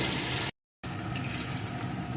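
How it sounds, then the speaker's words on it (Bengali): Cumin, ginger, coriander and dried chilli sizzle steadily in a pan while being cooked down for a restaurant-style chicken gravy. The dense, close frying hiss cuts out for a brief silent moment, then resumes at the same level. "এখন মশলাটা দিয়েও সুন্দর করে কষিয়ে নেব"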